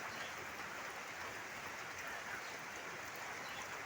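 Heavy monsoon rain that has fallen for days, a dense, steady hiss of downpour without breaks, faint and distant in level, with no voices.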